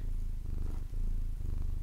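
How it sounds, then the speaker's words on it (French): Domestic cat purring close up, a low rumbling purr in steady rhythmic waves with brief breaths between. "vous allez peut-être l'entendre ronronner"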